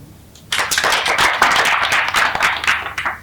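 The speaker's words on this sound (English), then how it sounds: "A round of applause." Applause breaks out suddenly from an audience at a human rights court address, a lively crowd of claps with a few louder hits, continuing steadily to the end.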